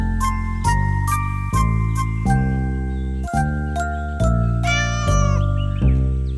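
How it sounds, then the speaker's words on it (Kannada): Cartoon cat meowing in a children's animated story, a series of repeated clear, tonal meows in a steady rhythm, loud and close, with a tinkling jingle near the end. "ಒಂದಿವಸ ಅವರು ಬೆಕ್ಕುನ ತರ್ತಾರೆ"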